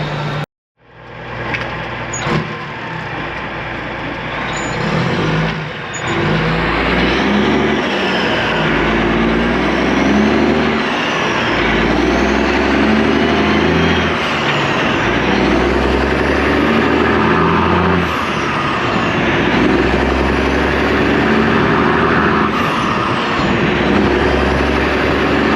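A big truck engine in cold morning air, heard through the open cab window while driving: a loud, steady, continuous drone with rushing wind throughout.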